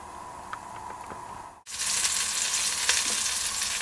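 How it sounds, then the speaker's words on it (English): Flour-dusted lamb shanks drop into hot oil in a pan, and a loud, steady sizzle and frying hiss fills the rest of the clip after a quiet moment, with faint stirring ticks. "So a bit of oil, throw in a couple of lamb shanks."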